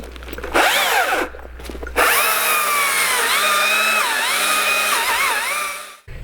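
A battery-powered saw cuts through a log: its loud electric motor whine starts in short bursts, then runs steadily, the pitch dipping and recovering as the blade loads up in the wood, before cutting off at the end.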